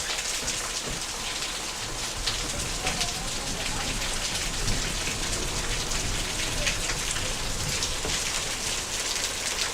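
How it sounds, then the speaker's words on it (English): Heavy monsoon rain pours down in a desert area, a loud, dense, unbroken hiss of drops hitting surfaces, steady throughout with no pauses. "It is monsoon weather, guys."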